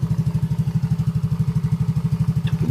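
A Yamaha Mio i 125 scooter engine idles close by with a rapid, even, pulsing thump, steady throughout with no voices.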